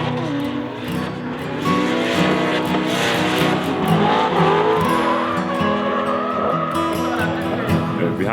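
Drift car at the Nürburgring during the Nürburgring Drift Cup, its engine revving hard with tires squealing continuously and loud throughout, under someone talking.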